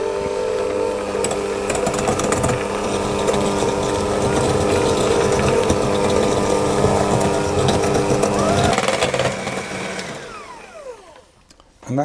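A mixer creams butter and sugar in a bowl with a steady loud motor whine, then slows and winds down near the end.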